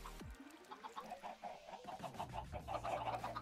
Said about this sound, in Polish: te dwie kury dają nam po prostu kolejną kurę